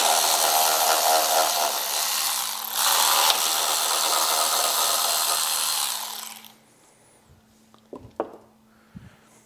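Powered 13 mm tool whirring loudly and steadily while loosening the bolts at the rear of the battery on a Harley-Davidson motorcycle, stopping after about six seconds, followed by a few faint clicks and small metallic handling sounds.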